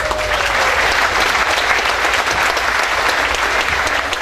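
Audience applause at a Dutch village cabaret evening as a newly announced harvest celebrity steps forward: steady, dense clapping from a large crowd, loud and close throughout with no voices over it.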